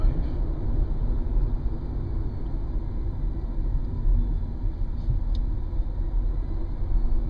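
A Nissan LEAF electric car driving around Mission Viejo, heard from inside as a steady low road and tyre rumble with a soft hum, continuous and even throughout, with no voices.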